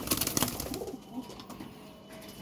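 Pigeons in a loft where the birds are sick with watery droppings coo in a short, close, fairly loud burst that fades into quiet rustling, with no talk.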